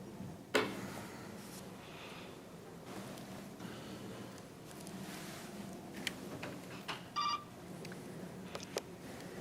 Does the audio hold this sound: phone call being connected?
yes